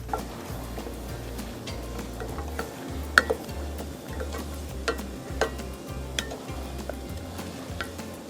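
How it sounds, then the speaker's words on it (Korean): Sautéed onions with wasabi milk are stirred in a pan, making rhythmic low scraping strokes with soft ticks and a faint sizzle underneath. The sound is close and steady, with no talking. "저어주세요."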